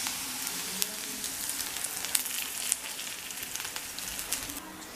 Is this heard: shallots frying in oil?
yes